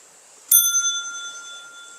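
A bell is struck once with a sharp metallic hit, then rings on with a clear, steady tone that slowly fades over about a second and a half.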